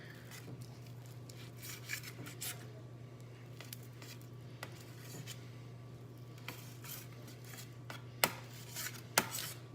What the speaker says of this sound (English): I'm already cutting thinner slices